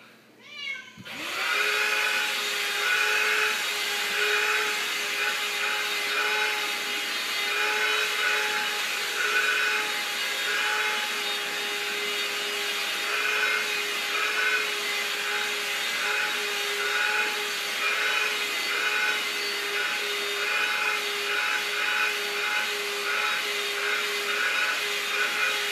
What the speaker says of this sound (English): Okay, now we got a vacuum.